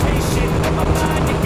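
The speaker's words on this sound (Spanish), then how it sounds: "A ver qué coge la moto." A Honda Forza 125 scooter's engine revs hard under acceleration, a loud, close, continuous buzzing roar mixed with wind rush for a short burst.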